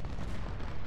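Canister shot fired by an artillery battery in Ultimate General: Civil War, a dense, booming roar of cannon fire that fills the whole moment at close range with no voices.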